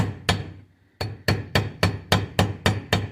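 A light hammer taps a seal into a trailer wheel hub with nine crisp, evenly spaced metallic strikes after a short pause, each ringing briefly and close by.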